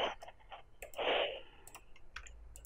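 Sharp mouse clicks tick out sporadically, some close together and others spread apart, over a steady background hum with a broader rustle of movement partway through.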